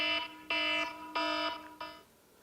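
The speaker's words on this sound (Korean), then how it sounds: "저는 경보기를 가장 많이 씁니다." A phone alarm ringtone sounds in four bright, harmonic electronic bursts separated by short gaps, the last one cut short, close and clear with no voices.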